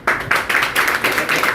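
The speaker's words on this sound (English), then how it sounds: "applause for him" A short burst of clapping from a small group at a business networking event, quick and uneven for under two seconds.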